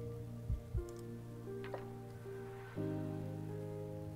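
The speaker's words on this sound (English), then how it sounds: "Maybe rain? Yeah, the rain sounds nice." Rain ambience played back through a computer: a steady, even patter of rainfall with a few brief drip-like taps, sitting under sustained tonal background hum at a low, moderate level.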